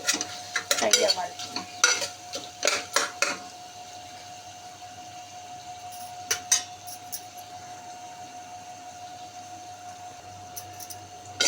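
Chicken curry being stirred and fried on low flame, with clattering spoon-against-pot strokes in bursts over a faint low sizzle, then quieter stretches with occasional clinks.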